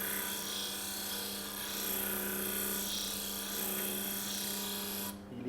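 A model ship part is pressed against a power sanding tool, giving a continuous abrasive whir and rasp held at an even level for several seconds before it stops abruptly, with no talking.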